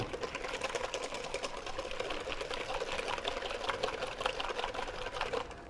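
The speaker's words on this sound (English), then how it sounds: "Just give that a good whisk up." Eggs and sugar are whisked together in a bowl for bread and butter pudding, giving a steady, fast rattling whir of the whisk against the bowl that runs continuously and fairly loud with no talking.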